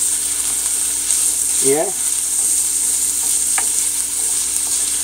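Corn and string beans sizzle in a hot pot for a corned beef and ham breakfast hash, a constant hissing fry close by, with a brief spoken word partway through.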